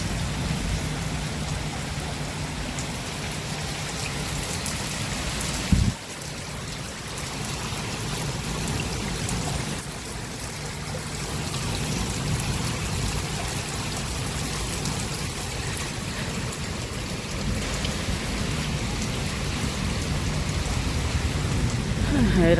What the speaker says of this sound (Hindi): कितनी बारिश कर रखी।